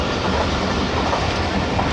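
A train passes through Saiyan Wala railway station without stopping, with a continuous loud roar of wheels on rails and faint clickety-clack rhythm.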